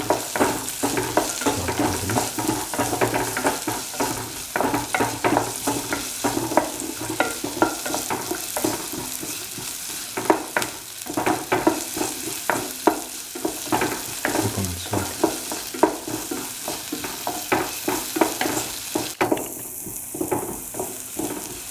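Onion pieces and garlic fry with salt in a pan while being stirred steadily. A busy, close crackling sizzle is broken by frequent scraping stir strokes for the whole stretch, with no talking.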